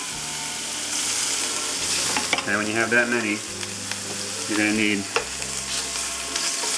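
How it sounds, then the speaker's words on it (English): Meatballs sizzle steadily in a hot cast iron pan greased with pork fat, a continuous loud frying hiss with soft scraping of a spoon, while someone talks over it. "You should get a sizzle on your meatballs."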